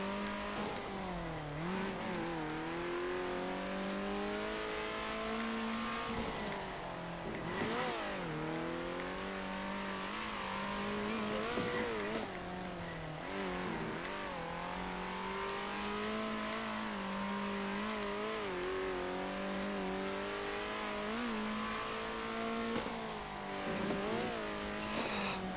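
Prototype race cars scream around the circuit in the Circuit Superstars video game, a continuous loud engine whine that repeatedly swoops up and down through gears and corners for about twenty-five seconds.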